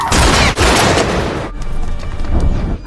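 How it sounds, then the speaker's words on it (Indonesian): Loud gunfire in the 2009 thriller film Triangle cracks out in heavy sustained volleys, a brief gap, then sharper scattered shots and echoes trailing off. "Tiba-tiba terdengar suara tembakan."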